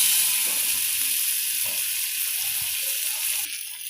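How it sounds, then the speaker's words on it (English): Tomatoes sizzle steadily in a pan over a high flame, a constant bright hiss with faint clinks of utensils underneath, close and without talk. "I have added the tomatoes, and now the flame is high."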